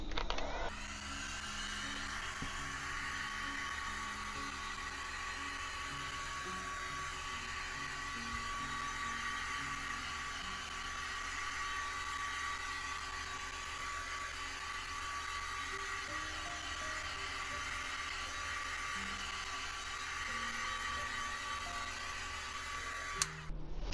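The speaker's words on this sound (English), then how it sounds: "Then I'm going to use a heat gun to bring up those cells." Heat gun blowing steadily on an acrylic pour with silicone oil in an open cup, a continuous airy whoosh with a motor whine, fairly loud and unbroken for the whole stretch.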